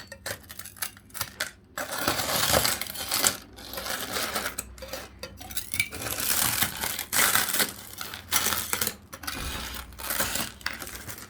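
Shards of a broken glass kitchen tabletop crunch, crackle and clink as they are pried out of the frame. The close crunching comes in irregular bursts separated by brief pauses.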